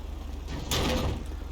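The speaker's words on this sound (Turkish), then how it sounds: "Oğlum kapıyı indirdin aşağı lan" A car door is knocked off a police Ford Courier in GTA 5: a single loud scraping clatter over a low steady engine hum.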